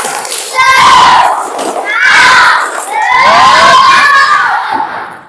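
Schoolchildren in a classroom perform the tepuk semangat clapping chant, loud rhythmic shouted phrases in unison in three bursts with thuds of clapping, close and energetic.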